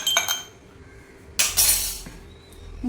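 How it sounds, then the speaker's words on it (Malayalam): Ice cubes dropped into a glass for strawberry juice, giving a few sharp clinks and a brief crackling rattle, close and alone. "ഐസ് ക്യൂബ് ഇട്ട് കൊടുക്കാം"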